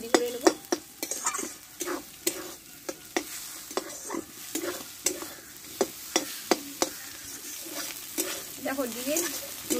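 Egg scrambled and stirred in a frying pan for dim porota, a soft sizzle beneath repeated sharp spatula scrapes and taps against the pan at an uneven rhythm, close and clear with no voices.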